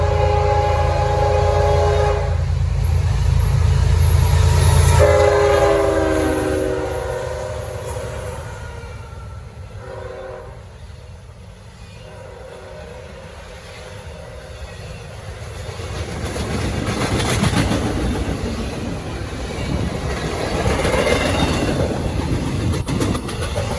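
A Norfolk Southern freight train rumbles past in Gaffney, South Carolina, with clattering wheels, its horn sounding in several long blasts early on, then the roar fades and swells again.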